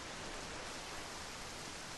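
Steady rain in The Legend of Zelda: The Wind Waker video game, a dense, even hiss of falling water that holds unbroken and fairly loud throughout, with no other sounds over it.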